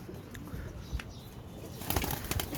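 Pigeons on a rooftop in Sialkot cooing softly with bursts of wing flapping, close and moderately loud, with faint background activity.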